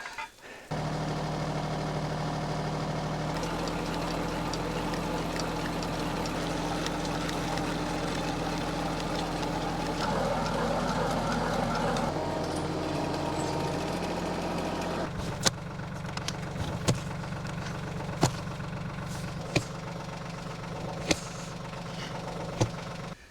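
An engine-powered auger drills corral post holes into hard ground before the freeze, a steady close motor drone that shifts load partway through, then breaks into intermittent knocks and clunks near the end.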